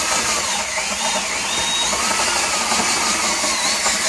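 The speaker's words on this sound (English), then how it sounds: "by using a drill you can see the unit goes down nice and smooth" A power drill drives the lowering mechanism of a DIY lift bed inside a cargo trailer, giving a steady, loud, continuous mechanical whir that holds its pitch for the whole stretch, with no talking.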